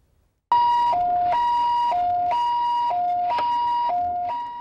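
An ambulance siren starts abruptly and wails loud and close in a steady two-tone cycle, alone, tapering slightly at the end.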